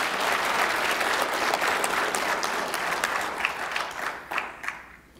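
Applause from an audience at a drug court commencement ceremony for graduates: dense, steady clapping that slowly thins and fades toward the end.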